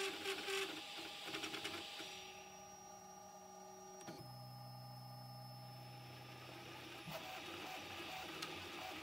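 A Prusa MK4 3D printer converted to a granule extruder hums and whirs through a printing test, its motors shifting pitch in steady mechanical tones.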